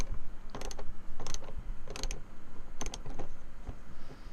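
A T25 Torx driver loosens the roof handle bolts inside a BMW X5. Five short bursts of ratcheting clicks and creaks sit close to the microphone, separated by brief pauses.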